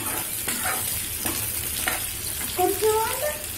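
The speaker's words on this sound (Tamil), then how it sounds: "இப்போ கிரீன் சில்லி போட போறேன், அப்புறமா கறி லீஃப். இப்போ நல்லா வதக்குங்க." Green chillies and curry leaves sautéing in a pan, a close, continuous sizzle with periodic scraping stirs and a brief crackle burst toward the end, no talking.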